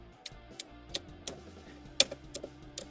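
Plastic ratcheting joints on a trooper toy figure being moved, giving a string of sharp, close clicks spaced irregularly, one louder snap near the middle, in a quiet room with no talking.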